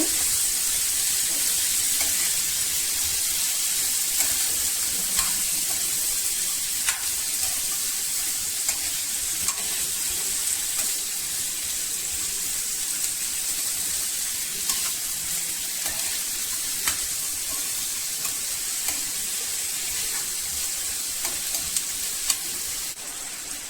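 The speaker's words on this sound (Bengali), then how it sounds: "সবজি দিয়ে দেবো মশলার সঙ্গে ভালো করে মিশিয়ে নেব" Vegetables fry with salt and spices in a pan, a steady loud sizzling hiss broken by occasional scrapes and clicks of stirring, with no talking.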